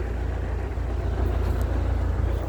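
A YuMZ tractor pulling a plough through a field gives a continuous, loud low diesel drone, steady and close with no talk.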